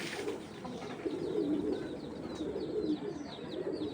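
Soft, repeated low cooing of a pigeon held in the hand close by, with faint chirps and light rustling in the background.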